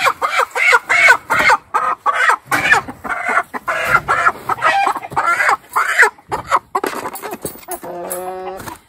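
Several chickens cluck and squawk up close in busy, overlapping bursts, ending with a longer drawn-out call.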